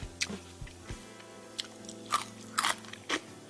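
Crispy fried tofu crunches under several close, sharp bites, with a few distinct crackling chews spaced irregularly between quiet pauses.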